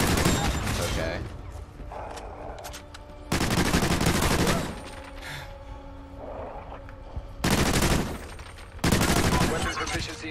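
Warhawk gunfire comes in dense bursts of rapid automatic shots separated by calmer stretches, with a few of the volleys sounding close and loud and others lower beneath the game's background noise.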